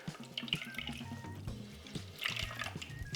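Water is squeezed out of cooked cabbage for a gyoza filling, giving a quiet, close trickle with small drips and splashes that rise and fall irregularly, with no talk.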